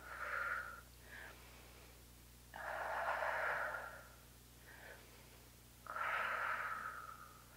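Heavy, rhythmic breathing while holding a Pilates position: several loud, close breaths and exhales alternate with quieter intakes, steady and unhurried over a low background hum.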